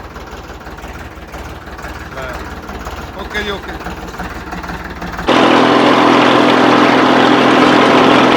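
A Ford 3600 tractor engine runs steadily nearby, a loud low rumble that jumps to a louder, denser roar partway through, with someone speaking briefly over it.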